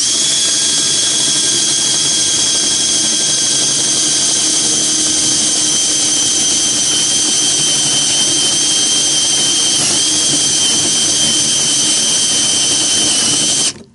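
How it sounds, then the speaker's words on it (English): A power drill with a large bit runs steadily at a loud, high whine on low speed, widening a hole, then cuts off abruptly at the end. "we're going to put our drill on low speed"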